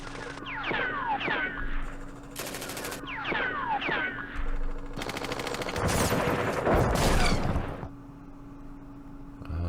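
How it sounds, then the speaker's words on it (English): Light machine guns firing in Campaign Series Middle East: chirping birds give way to several loud bursts of automatic fire, including a sustained barrage in the middle, before the birdsong returns. "Use our light machine guns."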